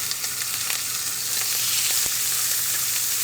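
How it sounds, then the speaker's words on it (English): Pork cheeks, or jowls, sautéing in oil in a pan give a steady, dense sizzle and fry crackle that stays fairly loud and continuous throughout, with small pops and spatters, and no voices. "we're going to saute up a couple pork cheeks, or jowls"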